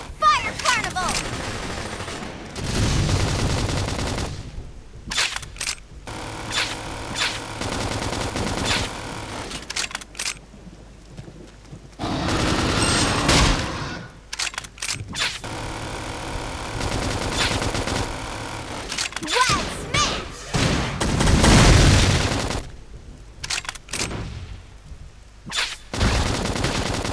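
Fire Carnival art attack in Xenoblade Chronicles X Definitive Edition, long stretches of rapid crackling bursts and explosive rattling, loud and sustained with brief gaps, game voices and effects mixed in.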